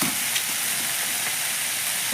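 Bay leaves drop into hot oil for tempering and set off a loud, continuous hissing sizzle that stays dense and even from start to finish, with no voices present.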